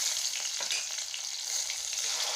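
Spice paste of chili powder, turmeric and cumin powder frying in oil over a low gas flame, a steady close hiss of sizzling with soft crackles throughout, no voices.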